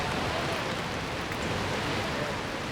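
Rain on the Champs-Élysées near the Arc de Triomphe in Paris: a steady, even hiss of falling rain on the street, continuous and moderately loud, with no voices.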